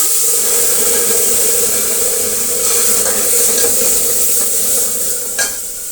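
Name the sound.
sambar poured into sizzling tempering and stirred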